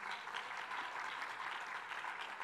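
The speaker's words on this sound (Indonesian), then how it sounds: "berikan tepuk tangan bagi Tuhan kita." Sustained applause fills a church service, steady and dense clapping from a congregation throughout.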